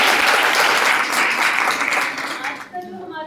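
Hearty applause from a village audience at a health awareness session in Behlolpur, Mohali, a dense wash of many hands clapping that fades out near the end, with a little talk beginning underneath.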